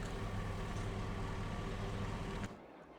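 A truck engine runs steadily in Farming Simulator 22, a continuous loud drone with low rumbling hum that cuts off abruptly near the end, leaving a faint quieter tail.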